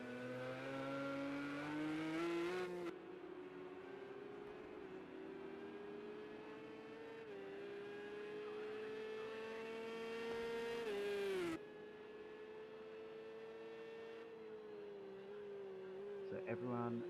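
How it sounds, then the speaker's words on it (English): A Porsche GT3 race car in a racing game drives around the track, its engine note climbing and dropping through gear changes, with a sharp cut at one point, steady and close throughout. "Glenn is the first driver out on track in the Porsche"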